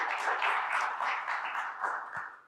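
An audience claps at the Parrish Art Museum, a steady, moderately loud wash of many hands that tapers off at the end, with no talk over it.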